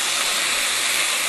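Chicken and garlic stir-fry with asparagus and mushroom being stirred in a hot pan, a steady broadband sizzle that stays loud and even throughout with no talking.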